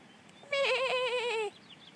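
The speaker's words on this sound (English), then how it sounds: "Hi, goat. Will you say hi?" A goat on a farm driveway lets out a single loud, close bleat lasting about a second, with a wavering tone; before and after there is only quiet background.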